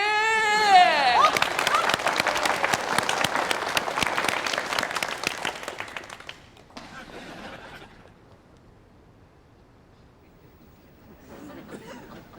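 Loud, dense audience applause with cheering greets a guitarist on stage for about six seconds, then thins out into scattered claps and murmuring before a brief swell of clapping near the end.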